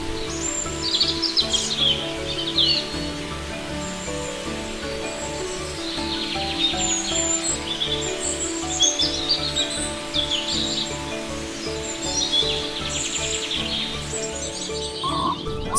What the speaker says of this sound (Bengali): সাফারি পার্কের জলাভূমিতে স্থানীয় এবং পরিযায়ী অসংখ্য জলচর পাখিদের আনাগোনা রয়েছে